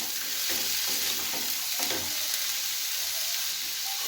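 Chicken and chopped vegetables fry in a hot pan for soup, giving a loud, steady sizzle with soft scraping bursts as the mix is stirred, and no talk.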